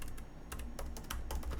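Fingers tap quickly on a computer keyboard, a close burst of uneven clicks and key presses over a low steady hum, with no speech.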